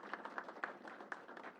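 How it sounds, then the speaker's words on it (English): Round of applause for a borough president, scattered claps at a steady pace from a modest crowd, faint and somewhat distant. "Let's give her a round of applause."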